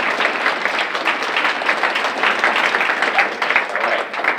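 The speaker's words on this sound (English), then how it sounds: "big round of applause for everybody that participated" Sustained audience applause at an alumni networking event, a steady dense wash of many hands clapping throughout with no talking over it.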